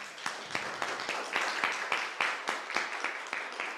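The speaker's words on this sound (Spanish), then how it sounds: "Un aplauso al equipo." Modest applause for a team at a seminar on forage and pasture rest, a small group of distinct, fairly quiet claps in an uneven rhythm lasting a few seconds.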